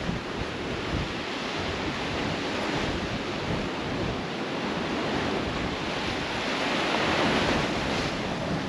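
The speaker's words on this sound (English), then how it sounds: "It's just that little bit windy" Wind buffets the microphone on a rough-weather stretch of coast at Yeppoon, a steady broadband roar with surf-like rush, no speech.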